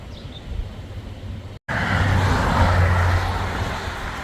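Steady roar of traffic on a divided highway, heard from the roadside by a hiker on the Appalachian Trail; a brief dropout splits it, then vehicle noise swells louder and continuous, with no talking.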